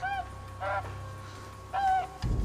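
Goose honking, two short nasal honks spaced about a second apart over a low background rumble, ending with a brief thud.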